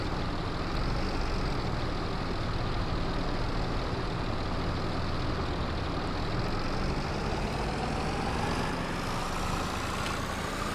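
Tractor engine labouring up a long hill in a farming video game, a steady, continuous low drone with a gradually rising pitch, heard alone.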